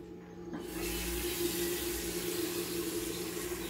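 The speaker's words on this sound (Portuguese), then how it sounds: "vou colocar água aqui na panela pra me fazer o macarrão" Tap water runs steadily into a cooking pot being filled for pasta, starting after a brief quiet moment and continuing as a close, even splashing hiss.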